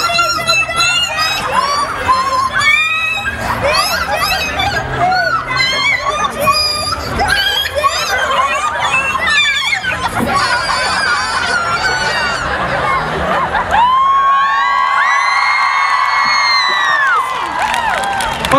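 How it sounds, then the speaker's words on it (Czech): A crowd at the Utubering Praha 2016 YouTuber event cheers loudly, with shrill screams and whoops layered over a dense roar throughout, and high sustained yells rising near the end. "Potlesk."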